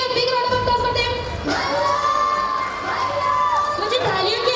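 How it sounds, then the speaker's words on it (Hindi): Cheering and shouting from a crowd of children at a school annual day, loud and sustained across the whole stretch with overlapping voices and a brief lull partway through. "Please give a big round of applause for them."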